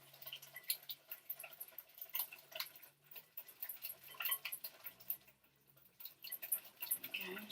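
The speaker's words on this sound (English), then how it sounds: "we're just going to whisk all of this together" Banana cupcake batter whisked in a bowl, a quick, steady ticking and tapping of the whisk against the sides, faint and close, with a short pause partway through.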